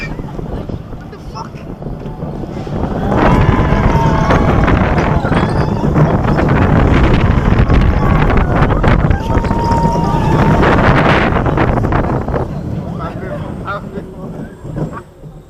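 Wind rushes loudly past on a roller coaster ride at Parc Asterix from the back row, swelling to a sustained roar mid-ride and easing toward the end, with people's voices audible throughout.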